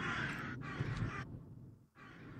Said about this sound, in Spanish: No sé si están oyendo los pajaritos